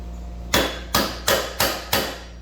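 Hammer blows driving a front wheel bearing into place on a Suzuki DRZ 400 motorcycle, five sharp, evenly spaced metallic strikes, close and loud.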